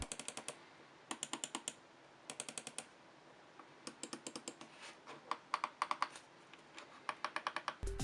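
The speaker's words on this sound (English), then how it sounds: "the left and right buttons have a nice confident feeling click to them" Buttons on an EasySMX V18 gaming mouse click in quick bursts of four to six crisp, close presses separated by short pauses, loud and alone with no voice over them.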